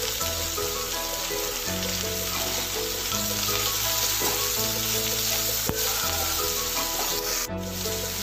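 Ridge gourd pieces fry in a pan with a loud, continuous sizzle and rough stirring scrapes, close up, while a melodic musical tune plays steadily underneath.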